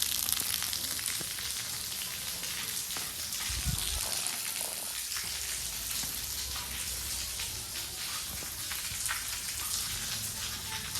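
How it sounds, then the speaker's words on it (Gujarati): Heavy falling water pours steadily at a waterfall in a village setting, a dense continuous roar that holds its level throughout with no voices over it. "અહીંયા બહુ પાણી પડે છે ધોધમ ધોધ"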